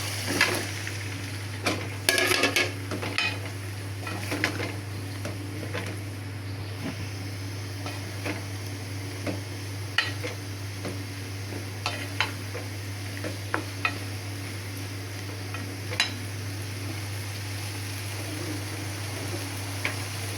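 Taro pieces tipped into a pan of cooked-down spice masala for a hilsa curry and stirred, giving a low steady sizzle over a constant hum, with scattered scrapes and clinks of a spoon against the pan throughout.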